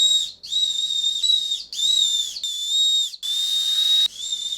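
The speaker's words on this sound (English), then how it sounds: "you can blow the whistle" A whistle built into a New Balance 574 Yurt shoe is blown hard in a series of six shrill, loud blasts, each a second or less with short gaps between.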